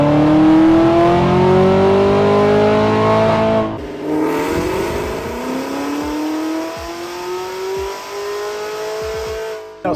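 A bolt-on 2021 Camaro ZL1 1LE on a dyno roars through a loud full-throttle pull, its engine note climbing steadily, then a brief lift and a second rising sweep with crackles, close and continuous without talk.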